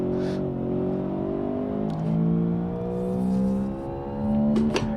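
Simulated car engine in BeamNG.drive, a 1960s-style supercar built in Automation, droning and revving with steady rising harmonic tones, moderately loud and alone, with a few faint clicks near the end.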